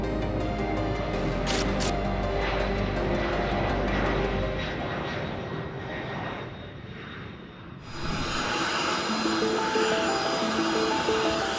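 A Lockheed C-5M Super Galaxy, a huge military transport aircraft, flies past with a loud, steady engine roar that fades a little midway and then swells again.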